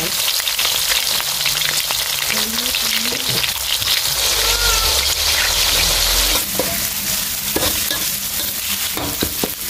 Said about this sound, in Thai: มื้อนี้เฮาก็สิมาถอดก่อนเนาะค่ะถอดจักหน่อยแต่บ่ได้ถอดให้กรอบเนาะค่ะ